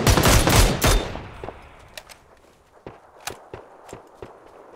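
Shotgun blasts in the battle game PUBG: a rapid burst of loud, close booming shots at the start, then scattered sharp, fainter cracks spaced out over the following seconds.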